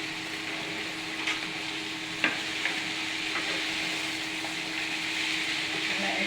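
Pumpkin and green peas are stir-fried in a pan, a soft continuous sizzle broken by a few sharp scrapes and knocks of a spatula, nearby and without speech.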